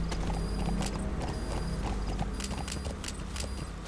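Hooves clip-clop in a steady galloping rhythm as a horse runs in the video game Metal Gear Solid 5, close and continuous over game ambience and mechanical noise.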